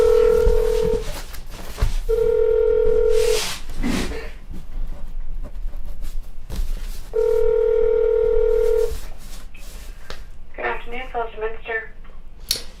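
A telephone line carries steady tones in three long sustained bursts separated by gaps, with a quick run of short dialing beeps near the end. Speech and background noise mix in between the tones.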